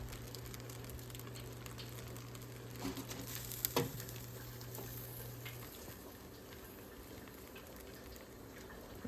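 Bacon frying in a pan beside grilled cheese sandwiches, a steady soft sizzle with a brief clatter partway through, fairly quiet and without talk.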